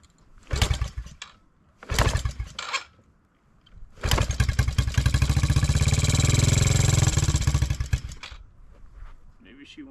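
Yamaha TTR 90E motorcycle with a used replacement engine, kicked over twice in short bursts before catching and running loudly for about four seconds, then cutting out.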